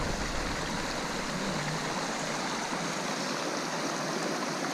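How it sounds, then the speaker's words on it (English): A creek at a trail crossing rushes steadily and fairly close, a continuous even wash of flowing water with no voices over it. "So this is the creek crossing he was talking about."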